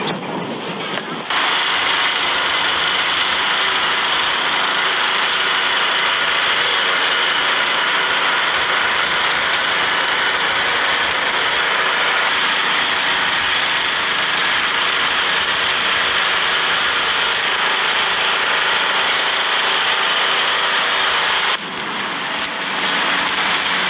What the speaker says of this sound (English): So I'm gonna go through, mow.